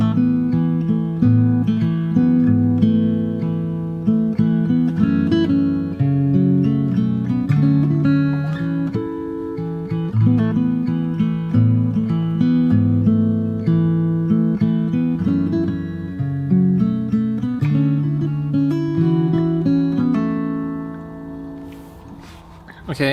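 Fingerstyle acoustic guitar plays the first part of the chorus of a song from Hamilton, with plucked bass notes and melody in a flowing, moderate rhythm, close and clear, ringing out at the end.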